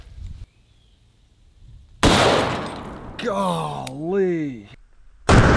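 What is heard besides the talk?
500 S&W Magnum handgun shot with hollow point round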